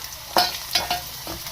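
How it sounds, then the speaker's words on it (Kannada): A spice tempering stirred in a hot pan: a few distinct scraping strokes over a soft, light sizzle, close by. "ಸ್ವಲ್ಪ ಇನ್ನೊಂದು ಸ್ವಲ್ಪ ಫ್ರೈ ಆಗಲಿ"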